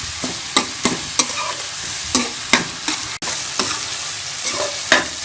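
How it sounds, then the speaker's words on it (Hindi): Onion with garlic ginger paste sautéing in a pan, a steady close sizzle broken by repeated scraping stirs at an irregular rhythm, no talking. "तीनों चीज़ें इसको हम ऐसा सौते कर लेंगे"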